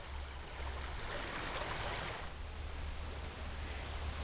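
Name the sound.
creek water flowing over rapids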